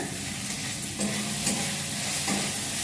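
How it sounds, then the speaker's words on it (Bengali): Chopped onions and green chilies frying in a pan for tadka, a dense continuous sizzle with soft spatula stirring strokes, close and steady without talk. "পেঁয়াজ আর লঙ্কা কুচিয়ে রেখেছিলাম লঙ্কা কুচিয়ে দিয়ে দেবো এইগুলো একটু ভাজা ভাজা করে নিই"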